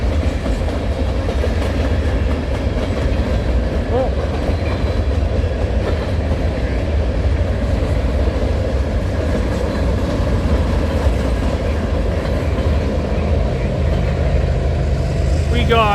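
A freight train with a distributed power unit rolls past trackside, a loud continuous rumble with wheel clatter throughout.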